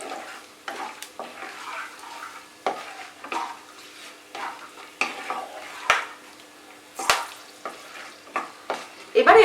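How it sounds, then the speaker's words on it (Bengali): Crushed whole cardamom, cloves, cinnamon and black peppercorns frying in oil for chicken korma, crackling with bright sputters and scattered pops plus a few sharp stirring clinks and scrapes against the pan. "এলাচ, লবঙ্গ, দালচিনি আর গোলমরিচ। ফোড়নটাকে ফ্রাই করব"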